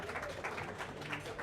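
Audience applause for a semi-finalist at a table tennis open in Bucharest, a steady wash of clapping throughout the short stretch without any clear break.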